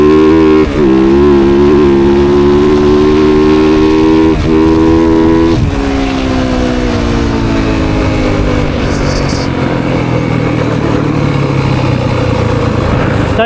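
A 2024 Yamaha YZ450FX dirt bike on a woods ride, engine revving loud and close near the limiter, a steady high drone with brief gear-change dips before the pitch drops and settles into a lower roar.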